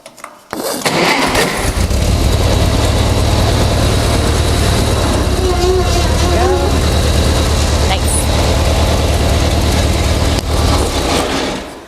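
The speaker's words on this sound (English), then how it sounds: "Now I'm going to start the tractor up." A Cub tractor engine cranks and fires up, then settles into a loud, steady low idle and drive-forward rumble that runs close and continuous throughout, with a brief voice partway through.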